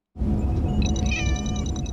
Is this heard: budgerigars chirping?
no